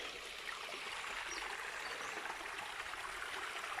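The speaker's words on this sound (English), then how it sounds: "you can see this beautiful little stream" A small stream flows in a continuous soft trickle and burble, faint and steady, with no voices.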